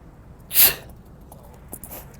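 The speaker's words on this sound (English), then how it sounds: "Gotta sneeze." A single sharp sneeze bursts out near 0.6 seconds, loud and close, followed by quiet room tone with a couple of faint small noises.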